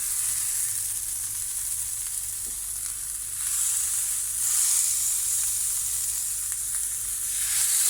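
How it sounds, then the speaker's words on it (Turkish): Steady, loud sizzling of liver skewers frying in a preheated cast iron pan, a continuous crackling hiss that swells slightly partway through, with no voices. "çöp şiş ciğerlerimizi önceden ısıtmış olduğumuz döküm tavamıza ilave edelim"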